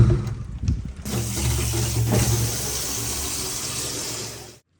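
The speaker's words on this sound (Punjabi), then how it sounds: "ਕਿਉਂ ਨਾ ਪਾਣੀ ਭਰ ਲਈਏ।" Water from a tap runs hard into a container being filled, a loud close gushing rush that starts after a few knocks, holds steady for several seconds, then cuts off abruptly.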